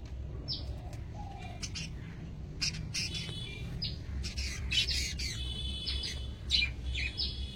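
Small caged birds at a busy bird market, among them a lutino red-eyed yellow female, give short rising squawks and chirps over a low crowd rumble, several calls overlapping.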